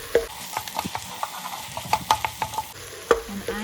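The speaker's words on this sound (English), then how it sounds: "And I'm cooking this over a medium-low heat, just so it gives my beef enough time to soak up the flavors." Minced beef fries over medium-low heat for Jordanian ouzi rice, a constant sizzle broken by a quick run of spatula taps and scrapes against the pan as the meat is broken up.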